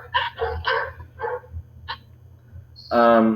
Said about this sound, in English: my dog's freaking out, barking at another dog